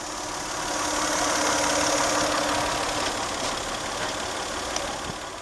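A 1999 Toyota Solara SLE with a 3-liter V6 runs at a steady idle, giving an even, moderately loud mechanical hum with a faint whine, and no one speaks.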